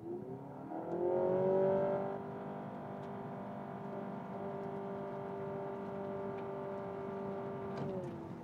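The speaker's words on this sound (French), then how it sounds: "Commençons avec un peu d'accélération." A 2025 facelifted Honda Civic accelerating on a German autobahn, its engine note climbing steadily with rising harmonics, loudest early on before settling into a sustained smooth drone as the car gains speed.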